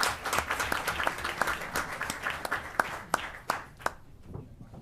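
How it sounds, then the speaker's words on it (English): Sustained audience clapping at a Union County Freeholder meeting in Linden honoring a parade Grand Marshal, dense and steady with a few sharper claps standing out, then fading away in the last second. "let's give him a big round of applause for all the work he's done in our community"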